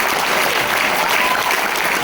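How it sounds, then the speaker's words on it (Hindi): Loud, sustained applause from a large audience welcoming a company regional manager at an event in India, a thick, continuous roar of clapping that holds steady throughout with no voices over it. "उनके लिए हैं तालियां जबरदस्त हो"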